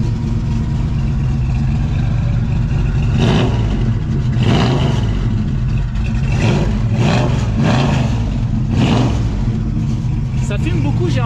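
A 1965 Ford Mustang with its old-style engine running, a steady loud mechanical rumble with several rising revs, heard close with people talking over it throughout.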